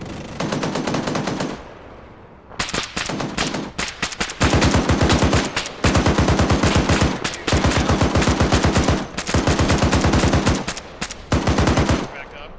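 Suppressive machine gun fire in Arma 3 comes in long, loud, rapid bursts from close by, with short pauses between strings of shots and a few voices heard faintly in the gaps.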